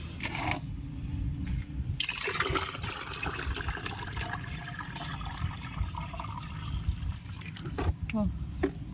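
Water is poured into a tub of lotus seedlings, a steady splashing and trickling that runs throughout with a few small drips near the end, while a voice talks over it.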